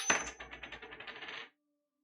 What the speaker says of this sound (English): So I'm gonna flip a coin.